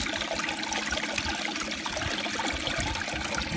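Water rushes steadily down the sluice of a small 30-litre wet gold plant, a loud continuous splashing and gurgling flow with no voices over it.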